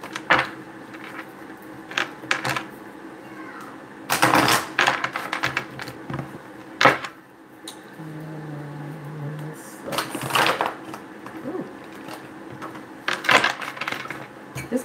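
A tarot deck being shuffled by hand, heard as repeated soft riffling and slapping bursts of cards at irregular intervals, close up, with quiet background hum between them.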